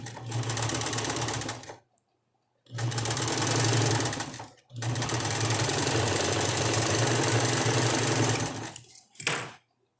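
A sewing machine zigzag-stitches elastic onto a double-sided diaper cover, running in three loud, close bursts of rapid stitching with short silent pauses between them and a brief final spurt.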